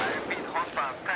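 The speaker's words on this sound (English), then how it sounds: "Bang! Look at that! I even killed the guy. This is the best rocket ever." A rocket launcher fires in a PC game, producing a series of short, muffled blasts and explosions at a low level, mixed with someone talking.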